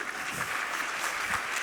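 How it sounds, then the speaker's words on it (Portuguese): A church congregation at an evangelical service in Brazil claps together in sustained, even applause that stays steady for the whole short stretch, with no voices standing out. "Uma salva de palmas para eles."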